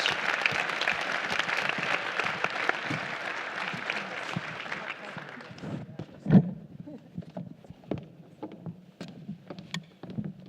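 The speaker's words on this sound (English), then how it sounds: "let's give a round of applause to our panelists" A conference audience at a STEM education summit applauds panelists with dense, steady clapping that lasts about six seconds before thinning into a few scattered claps and quiet room noise.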